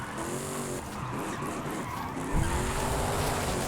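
Tires squealing as a car drifts in Forza Horizon 5, a fairly quiet, continuous screech with engine hum beneath and a brief bump of noise partway through.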